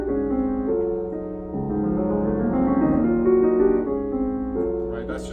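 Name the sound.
piano vamping on a Steinway piano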